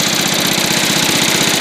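A small tractor engine runs at a steady idle up close, a fast, even knocking putter that holds without change.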